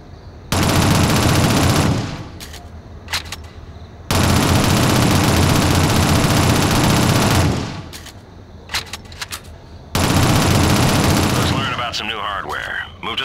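Video game machine-gun fire from Shadowrun (2007) weapon training comes in three long sustained loud bursts, separated by short gaps with a few scattered single shots.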